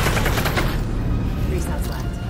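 Pistol fire in Half-Life Alyx sounds as loud, closely spaced cracks over a dense, noisy game background. The shots cluster in the first moments and the din stays heavy throughout.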